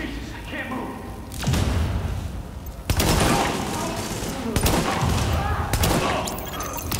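Bursts of gunfire and heavy impacts ring out in the video game The Division, several loud volleys separated by brief gaps, with someone speaking over the combat.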